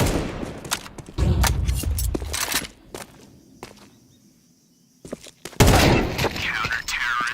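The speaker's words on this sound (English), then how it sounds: "They are just shooting hard right now" Gunfire in a Counter-Strike esports match, loud bursts of rapid shots and footsteps, then a quieter lull before more heavy firing resumes, with a commentator talking over it.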